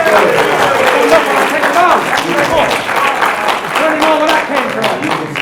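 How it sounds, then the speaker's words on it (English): Sustained audience applause fills a boxing press conference featuring a heavyweight boxer, loud and dense throughout with crowd noise and voices mixed underneath. "Give him applause, please."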